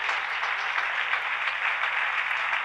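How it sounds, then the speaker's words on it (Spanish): Congregation applauding during a Spanish-language church sermon, a steady dense wash of clapping that continues without a break at moderate volume, with no voices over it. "Démosle un aplauso al Rey bendito"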